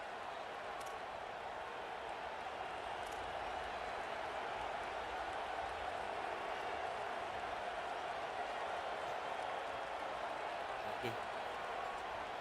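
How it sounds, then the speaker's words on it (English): Steady roar of a packed stadium crowd at a championship American football game, a dense unbroken wash of cheering and noise held at constant loudness with no distinct voices standing out. "And with this place rocking, the crowd forces a false start."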